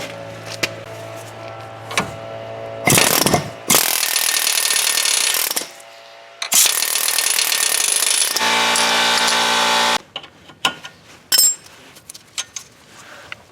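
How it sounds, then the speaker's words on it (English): On a 1998-2010 Ford Focus, an air hammer knocks a control arm ball joint loose: several loud, sustained rattling bursts of a few seconds each, broken by pauses and a few sharp metallic taps near the end. "So I'm just going to go ahead and knock this loose with my air hammer."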